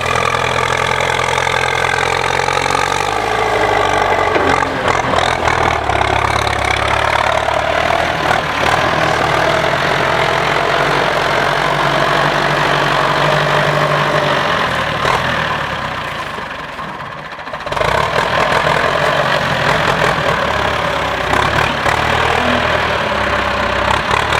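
A Ford 6610 tractor engine idles loudly with a steady low rumble, briefly dipping in level near the end before resuming.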